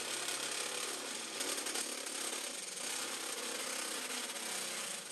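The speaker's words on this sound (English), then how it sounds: "So I need to drill me a couple holes." A power drill whirs steadily and loudly at close range, drilling mounting holes for switches on a DIY CO2 laser cutter, grinding continuously for several seconds without pause.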